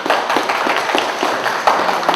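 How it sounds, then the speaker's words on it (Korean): Audience applause at a tea culture forum in Busan: a steady, moderately loud patter of many hands clapping with no speech, lasting a couple of seconds. "여러분 박수 한번 해주십시오"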